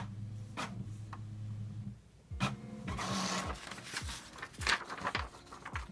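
An HP PhotoSmart 6525 inkjet printer, under repair for not printing black, starts up and prints: a steady motor hum, then a pause followed by rhythmic clicks, whirs and carriage shuttling, close and moderately loud.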